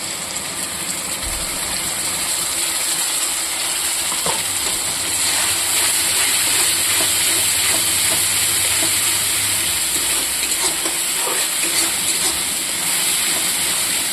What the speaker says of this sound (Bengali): ভালো করে আমি একটু ভেজে নেব